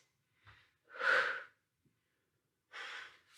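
Heavy breathing during a slides workout: a short soft breath, then a long loud exhale, a pause, and another strong breath, close to the microphone with no talking.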